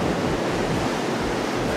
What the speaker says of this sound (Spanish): ver cómo revienta, ¿no?, cómo revientan las olas sobre todo.